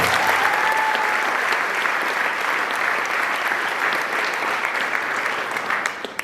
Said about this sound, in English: a round of applause for all of our families